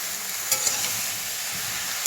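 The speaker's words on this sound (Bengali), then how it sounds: "এবার এটাকে একটু ভেজে নেব। গ্যাসটা ফুল ফ্লেমে রেখে ভাজলে তবে কিন্তু জলটা অতটা বেরোবে না" Shrimp seasoned with salt and turmeric fry over a full flame in a pan, a continuous close sizzle with a couple of light stirring knocks.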